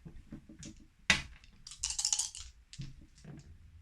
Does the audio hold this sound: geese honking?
no